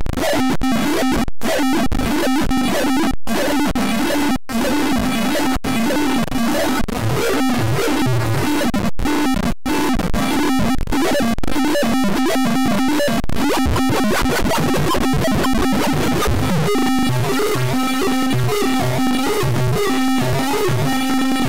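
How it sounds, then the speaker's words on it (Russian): A first chiptune synthesizer channel plays alone, a dense, buzzy stream of harsh, square-edged electronic tones that runs loud and steady, with busy rhythmic patterns shifting throughout. "Вот так вот у нас будет звучать первый синтезатор."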